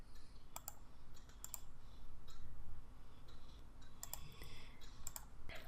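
Mouse clicks, a few at a time, come at irregular intervals as open invoices are selected on a computer, sharp and close over a steady low room hum with no talking.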